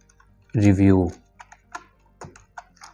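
Typing on a computer keyboard, a series of light, scattered key clicks following a short burst of voiced sound, close and fairly quiet.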